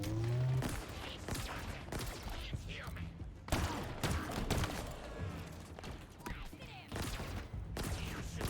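Rapid bursts of gunfire and impacts from the video game Halo Infinite, repeated shots in clusters with game effects around them, moderately quiet, with a person talking over parts of it.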